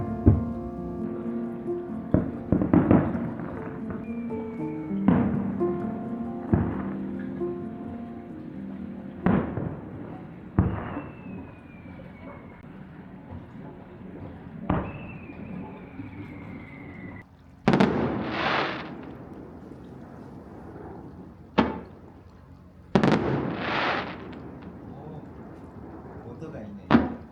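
Fireworks over Lake Toya, Hokkaido, heard from a hotel terrace, burst in the distance with irregular booms and crackling pops spread over time, with people chatting quietly in between.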